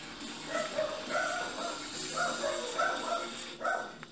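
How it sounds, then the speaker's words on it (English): Several dogs bark excitedly in the video game Car Mechanic Simulator after a car starts running, repeated yipping barks in quick bursts over a continuous broadband engine-like noise. "Got dogs barking."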